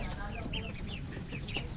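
A large flock of Pekin ducks feeds on a farm, with repeated short, high peeps and clucks rising over a dense, constant low rumble of the crowded birds.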